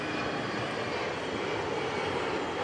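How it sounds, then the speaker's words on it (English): Steady, loud roar of airplane engines heard from atop an aircraft at City Airport, a continuous broadband rush with no breaks. "On top of a fucking airplane."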